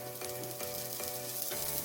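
Curry leaves dropped into hot oil with garlic for a bitter gourd powder, a dense steady crackling sizzle with faint rhythmic stirring, close and loud with no talking.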